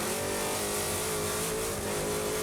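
A race truck engine roars at full throttle during a Baja 500 qualifying lap, a loud continuous close drone with rising harmonic pitch and no speech over it.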